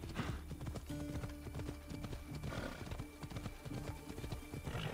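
A horse's hooves clip-clop at a steady, even pace in the video game Assassin's Creed Odyssey, clear and close, with a brief whinny-like tone and no talking over them.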